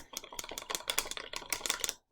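Yeast being stirred into water by hand, a quick run of light clicking and tapping strokes against the container, close up and steady for about two seconds before stopping, with no voices.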